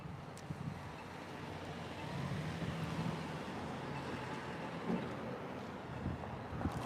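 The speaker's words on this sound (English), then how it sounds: "Little windy out here." Steady outdoor wind rumbles and buffets the microphone throughout, a broad, continuous roar with occasional stronger gusts and no voices.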